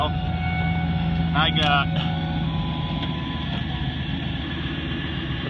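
A 2000 Ford F-250 pickup, fitted with a Western uni-mount snow plow, idles with a steady low engine rumble throughout, while someone speaks briefly over it.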